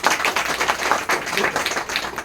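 An audience claps for a speaker at a business-plan meeting, a short burst of dense, fairly loud clapping with uneven individual hand strikes.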